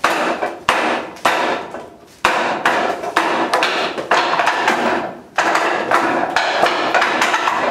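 Forearms striking a wooden Wing Chun training dummy during basic conditioning drills: a rapid, irregular series of sharp, loud wooden knocks and thwacks, close up, with no talking.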